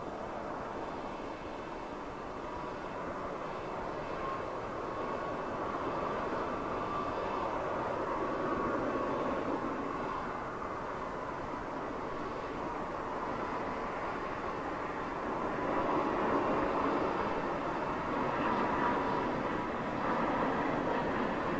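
Emirates jetliner departing heard from a distance as a faint, broad rumbling roar that swells and eases over about twenty seconds, with no voices.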